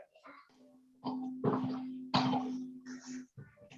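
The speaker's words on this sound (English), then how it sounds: "My daughter was coughing on something." A child coughs several times in a row, close by, with a few raspy, throaty bursts and short vocal sounds in between.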